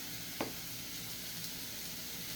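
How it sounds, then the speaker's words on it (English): Ground beef and sauce stirred in a pan for spaghetti, with a steady soft sizzle throughout and one brief scrape of the spoon near the start, close and fairly quiet. "And there's the ground beef and ground sauces, okay, guys? So we stir that up."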